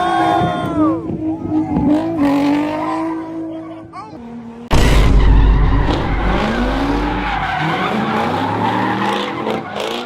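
A Hellcat skids hard with the handbrake at a street takeover, a loud sustained tire screech and engine roar erupting midway, with crowd voices and talk heard before and around it.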